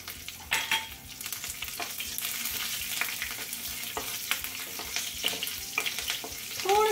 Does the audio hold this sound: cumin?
yes